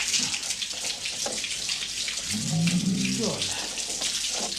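Water from a hose splashes and runs steadily over a horse's head and shoulders, with a constant hiss of spray, and someone speaks briefly over it.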